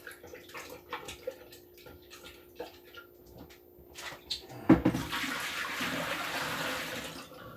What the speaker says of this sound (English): Let me rinse these off.